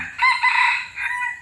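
A single hybrid junglefowl rooster crow rings out clear and fairly close, a bright, wavering call lasting just over a second over faint low background rumble.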